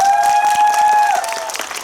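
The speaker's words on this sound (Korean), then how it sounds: "박수 한번 부탁드립니다." An audience claps together during a post-screening Q&A at a CGV cinema, the dense patter of hands steady for nearly two seconds, with a thin sustained tone ringing over it before fading.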